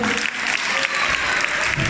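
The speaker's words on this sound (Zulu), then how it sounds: "Ngashaya ihlombe kakhulu." An audience at a student arts and crafts performance in Ulundi applauds steadily, a dense wash of many hands clapping throughout, with faint voices mixed in.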